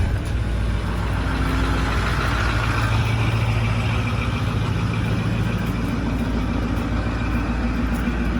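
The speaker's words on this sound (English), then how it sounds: "This is a cold start." A 2008 Ford F-350 diesel pickup idles on a freezing day just after a cold start, a steady low rumble with a constant rough drone throughout, close and alone with no talk.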